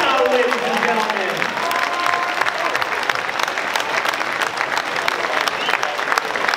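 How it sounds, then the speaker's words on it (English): A crowd at a fight event applauds and cheers for both fighters in a dense, sustained burst of clapping that fills the hall. "How about a round of applause for both these fighters"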